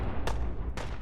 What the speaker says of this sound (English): I'm hearing explosions, which is great